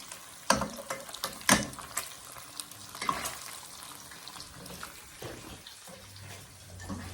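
Refried beans with bacon sizzling and crackling in a hot pan, with a few sharper clatters of a utensil scraping and stirring against the pan.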